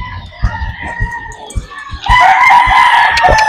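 Claret and lemon gamefowl roosters in a flying pen crow loudly nearby, their strained crows rising over a run of thumping steps and clucks, then turning into a sustained overlapping crowing chorus.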